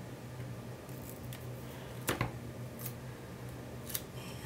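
Scissors snip paper for a Hobonichi Weeks planner, with a few soft, close cuts over a steady quiet room hiss and a clear crisp snip in the middle.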